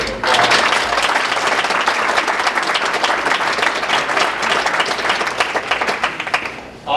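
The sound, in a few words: audience applause at awards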